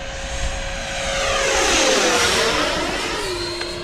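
RC electric ducted-fan jet plane with 105mm fan and 12s power, flying past: a loud, steady whine that rises, then drops in pitch as it passes close and moves away.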